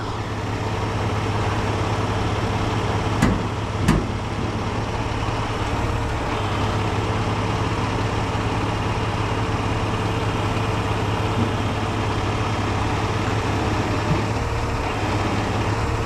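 A truck engine runs with a heavy, steady low rumble, loud and close, while a tire digs in. Two faint clicks sound briefly partway through.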